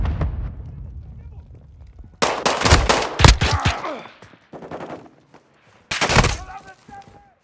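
Gunfire crackles in a desert firefight in Call of Duty: Modern Warfare II, with several loud, sharp bursts and single shots separated by quieter stretches where muffled voices and battlefield rumble carry on.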